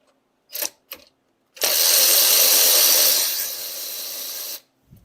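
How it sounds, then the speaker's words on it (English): Hand tools work loose the brake caliper bolts on a Polaris Sportsman 570 ATV: two short clicks, then a close, loud sustained ratcheting whir lasting about three seconds before it stops. "take off the caliper"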